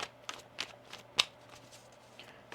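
A deck of tarot cards is shuffled by hand in quick, crisp riffles, several short bursts in a loose rhythm, close and fairly quiet.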